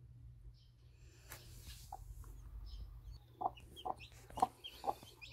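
Clucking from an Araucana mother hen guarding newly hatched chicks: a run of short, soft clucks in quick succession, quiet and close, over a low steady background hum.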